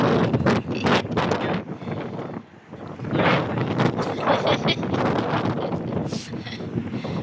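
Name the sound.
wind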